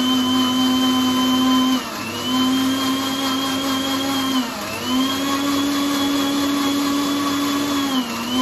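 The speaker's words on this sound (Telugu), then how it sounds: "దీన్ని అయితే మిక్సీ వేసేసుకొని వస్తాం" A mixie blender whirring as it blends sugar and milk for caramel pudding, a loud steady motor whine that dips briefly in pitch a few times as the load shifts.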